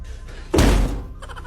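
A body bumps into a door with a single loud, dull thunk midway, followed by a brief soft rattle.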